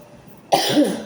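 A single sharp, close cough bursts out after a quiet moment, with a short raspy tail.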